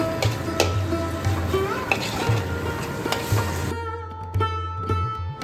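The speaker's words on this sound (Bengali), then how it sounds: "মশলাটা খুব সুন্দরভাবে কষিয়ে নেব তেল ছেড়ে আসা পর্যন্ত" Ground spice paste being stir-fried in oil for a Bengali potol chingri dish, with a soft sizzle under repeated scraping and clinks of a spatula against the pan, the sizzle thinning out in the last seconds.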